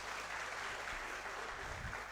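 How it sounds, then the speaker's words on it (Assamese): Steady applause from an audience at a forest department appointment letter ceremony, a dense wash of clapping held at an even level throughout with no break. "হাত চাপৰি দিব সকলোৱে"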